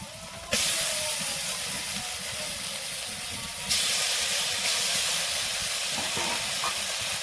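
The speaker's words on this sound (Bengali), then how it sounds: "টমেটোটা ভালো করে কষিয়ে নেবো" Tomato paste is cooked down in a pan, giving a loud, close sizzle that surges abruptly twice and then settles into a steady hiss.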